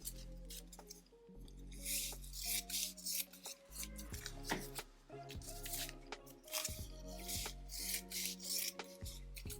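Fabric pieces for a small quilt block are trimmed close up with scissors, giving soft snips and rubbing over a quiet background of steady tones.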